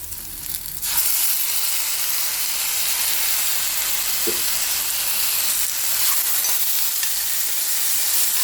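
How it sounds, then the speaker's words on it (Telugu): Tomatoes and curry leaves fry in a hot pan for a garden-greens dal, a loud continuous sizzle and hiss that starts after a brief quieter moment and carries on steadily, close by with no voices. "ఇందులోనే కరివేపాకు వేసి ఇప్పుడు మనం టమాటాలు వేయాలండి"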